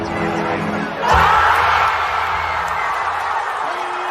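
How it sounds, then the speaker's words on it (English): A basketball arena crowd roars and cheers loudly at a Celtics playoff game, swelling suddenly about a second in and holding at a steady, energetic level to the end. "you can hear just the pop from the crowd"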